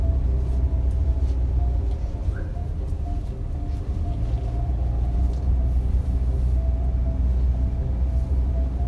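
Daihatsu Xenia Xi 2010 with automatic transmission driving in D gear, a steady low engine and road rumble heard from inside the cabin, continuous and even throughout.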